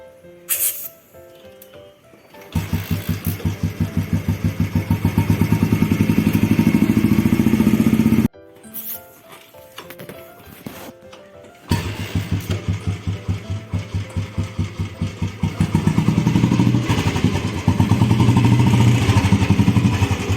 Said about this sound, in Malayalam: എന്നിട്ട് സ്റ്റാർട്ട് ചെയ്യണം ഇത് സ്റ്റാർട്ടാവാൻ കുറച്ച് ടൈം എടുക്കും